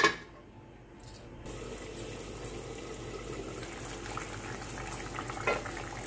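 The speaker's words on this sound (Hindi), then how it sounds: "तो देखिए दोस्तों, इस ग्रेवी में उबाल आ गया है।" Masala paneer gravy bubbles in a covered pan, making a low, steady burbling simmer with a few small clinks, close and fairly quiet, without speech.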